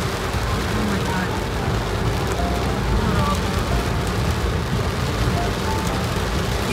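Heavy, steady rain pours down in the UAE, a dense unbroken wash of noise that holds at a constant loudness throughout.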